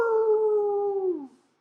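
A single long, loud dog howl holds a steady pitch close by, then slides downward and fades out over its last moments.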